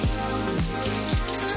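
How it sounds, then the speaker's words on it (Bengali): Potatoes fry in hot mustard oil in a wok with a steady, loud sizzle and crackle that runs without a break, and faint watery spatters ride over the hiss. "এবারে আলুগুলো আমি ওই তেলে আস্তে আস্তে করে ভেজে দেব"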